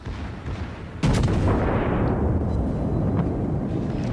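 Secondary guns on a warship fire in World of Warships, with a sudden loud booming burst followed by a sustained rumbling roar of gunfire that stays close and heavy.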